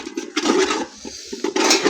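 Water poured into a cooking pot for vegetable biryani on a home stove, a loud, steady close rush with gurgling surges.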